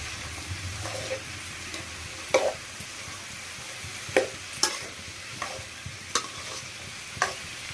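Carrot and beans poriyal stirred in a pan, a soft steady sizzle punctuated by sharp intermittent spatula scrapes and knocks against the pan, close up and without talking.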